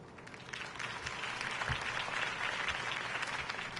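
A crowd applauds after Harvey Dent's campaign speech in the Batman PS4 game, a steady wash of clapping that swells after the first half second and holds, mid-distance.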